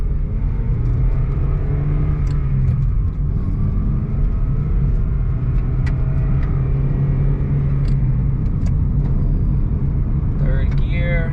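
A Toyota Torneo drives along a short road at a steady, normal pace, its engine and road noise forming a continuous low rumble with traffic sounds around it.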